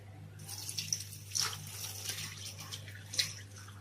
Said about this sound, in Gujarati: પાણી એડ કરીશું